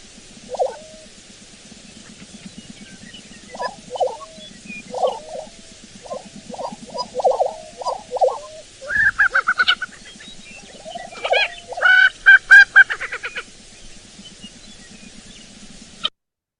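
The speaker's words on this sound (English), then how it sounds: "So the lesser prairie chicken is a lekking species." Lesser prairie-chickens calling on a breeding lek, a series of short, hollow bubbling gobbles repeated in bursts, followed by louder cackling and higher squealing notes, clear and fairly close with no voices.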